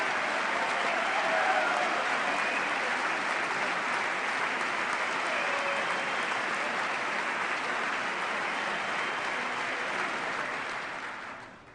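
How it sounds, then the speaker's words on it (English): Sustained audience applause at the 2010 State of the Union address, a dense, steady clapping from a large chamber crowd lasting about twelve seconds before tapering off at the end. "I thought I'd get some applause on that one."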